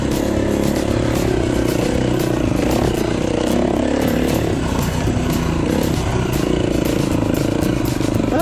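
A 2011 KTM 350 XC-F dirt bike ridden on a Utah trail, its engine roaring loudly and constantly up close with rising and falling revs, wind buffeting and rattling clatter throughout.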